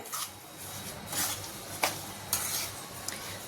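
Mango pickle being stirred with jaggery, with a few spoon scrapes and clinks against the pot, each one separate, and a soft wet squish between them.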